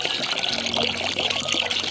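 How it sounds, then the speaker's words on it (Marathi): Water pours into a cooking pot outdoors in a field, a steady close splashing trickle lasting a couple of seconds, with no talk. "हे आपला पाणी गेलेलं आहे आपल्या टोपामध्ये"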